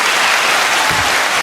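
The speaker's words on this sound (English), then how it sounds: "So I think we need another round of applause." An audience gives a round of applause during a podcast episode: dense, continuous clapping at full strength from start to finish, cutting off abruptly at the very end.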